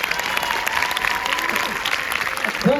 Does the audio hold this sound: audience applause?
yes